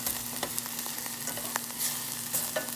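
A macaroni, egg and cheddar cheese casserole mixture sizzles steadily in a hot pan while it is stirred, with scraping strokes rising over a constant close frying hiss and no talking.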